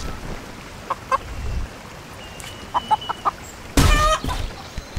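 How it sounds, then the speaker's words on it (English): A chicken in the video game Blade and Sorcery clucks in short, separated bursts, followed by a louder squawking flurry, heard fairly close over a quiet background. "There's still a chicken outside."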